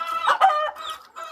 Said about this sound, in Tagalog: Oo, madaming manok pero hindi akin yan.